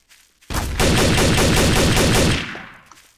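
Rapid automatic gunfire in Trouble in Terrorist Town, a sustained burst of loud, tightly spaced shots lasting about two seconds before trailing off into echo, with no talking over it.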